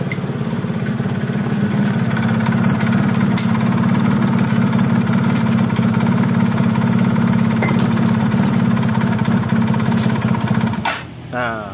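Yamaha F1ZR motorcycle engine with weak compression idling roughly, a steady loud chugging that sags and dies near the end, with some talk in the background.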